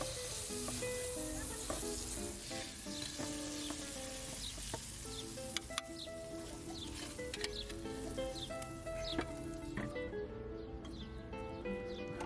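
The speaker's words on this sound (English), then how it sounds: "The squid is sautéed until starting to turn golden." Squid sautéing in a pan while cooking fideuá, a loud continuous sizzle with scattered pops and utensil clinks close by, no talking.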